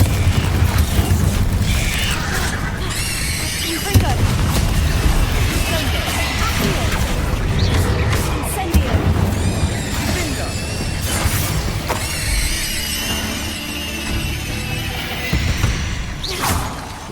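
Spell combat in the video game Hogwarts Legacy, with a Confringo explosion spell firing amid dense, continuous game action: repeated booms and crashes over a loud mix, with voices and effects layered throughout.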